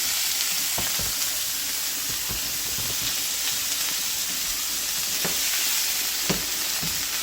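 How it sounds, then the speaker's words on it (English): Beef chuck steak sears in a hot pan, a steady loud sizzle and hiss of frying with scattered pops and crackles throughout, no voices. "Want to sear this for about a minute or a quarter on each side, just until it's nice and golden brown."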